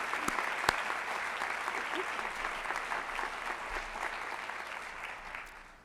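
Sustained applause from an audience at a research and development forum awards ceremony, dense steady clapping with a sharp clap near the start, fading out at the end.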